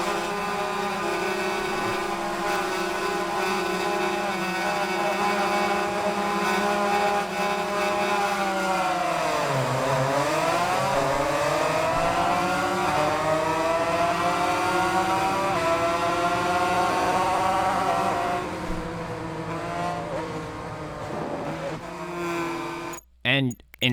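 A motorcycle engine in a video game drones and revs continuously, its pitch dipping and then climbing as the throttle changes, with talk over it and an abrupt cutoff at the end.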